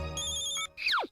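A cartoon phone ringing, a loud electronic ringtone with sustained bright tones followed by a quick falling chirp, alone without talk.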